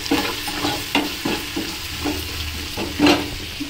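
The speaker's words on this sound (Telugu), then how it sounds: "శనగపప్పు, మినప్పప్పు వేసుకొని మంచిగా ఫ్రై చేసుకోవాలి." Chana dal and urad dal fry in oil in a pan, a steady sizzle broken by regular scraping stirring strokes, close and fairly loud, with no talk.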